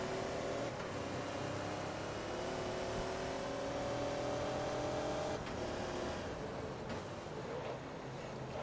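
A race car in the Forza Motorsport 2 racing game spinning its wheels at a start, its engine droning loud and steady with a whining, slowly rising pitch throughout, no voices over it.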